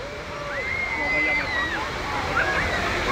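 Water splashes and rushes at the Trocadéro fountains in Paris during a record heatwave. The roar is steady and fairly loud, with a voice talking over it.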